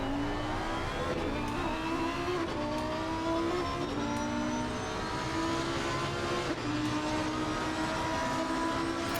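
A Lamborghini Huracan Super Trofeo EVO 2 race car at Monza in a racing game, its engine droning steadily at high revs with shifting pitch and brief gear changes, loud and continuous with no talk.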